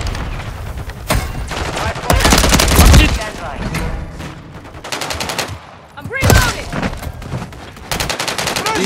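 Rapid bursts of automatic gunfire and single shots crack out loud and near in Call of Duty: Modern Warfare III gameplay, coming in bunched volleys with short gaps, amid battle noise and voices calling out.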